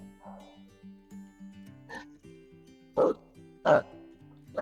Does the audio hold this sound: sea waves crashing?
no